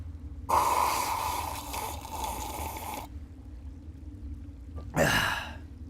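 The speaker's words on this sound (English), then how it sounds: "I'm gonna take a real loud sip out of it right now." A loud, drawn-out slurping sip of coffee lasting a couple of seconds, followed after a pause by a shorter breathy exhale or second slurp.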